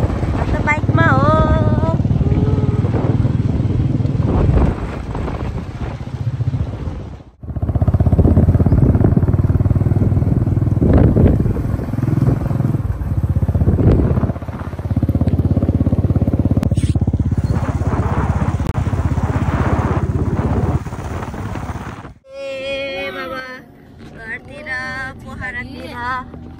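Motorcycle ridden along a rough, scary road near Butwal, its engine droning loudly with shifts in pitch and a brief drop around the middle, wind and clatter mixed in, voices speaking over parts of it.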